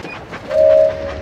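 A toy-like train from a Thomas video game rolls along the tracks with a soft rumble, topped by a brief bright whistle-like tone.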